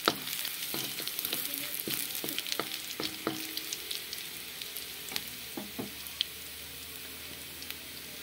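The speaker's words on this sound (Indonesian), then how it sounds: "Kita gaul bawang dia," Chopped onions stir-fried in a pan for a cabbage and sausage soup, a steady close sizzle with frequent sharp clicks and scrapes from the stirring utensil, no voices.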